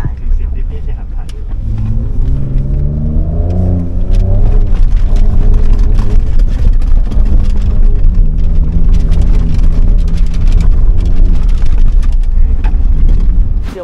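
A Ford Ranger Raptor pickup drives off-road, its engine close and loud, climbing in pitch over the first few seconds and then holding a steady, rough drone amid rumbling wind and road noise.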